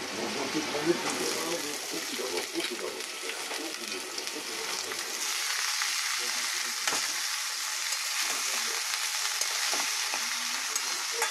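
Boiled banana flower drops into a pan of fried potatoes, and a steady, loud sizzle runs throughout. Stirring scrapes and clatters sound close by, and the frying turns thinner and brighter in the second half.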